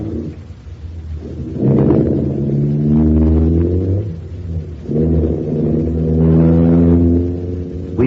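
A car engine cranks, catches and rumbles, then revs up repeatedly in deep surging bursts as it pulls away, close and loud with no voices.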